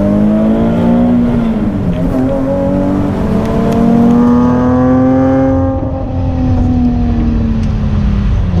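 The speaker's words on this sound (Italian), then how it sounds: "Gli aspirati suonano in un modo che i turbo un po' se lo sognano, soprattutto ad alti regimi." A Nissan 370Z with a naturally aspirated engine, revving loud and close with a steady drone that climbs and settles over several seconds.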